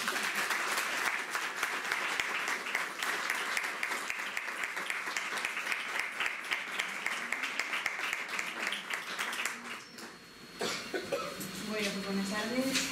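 Audience applause welcoming a speaker at a Women's Day commemoration event, steady moderate clapping from a hall crowd that fades out around ten seconds, followed by a voice beginning to speak.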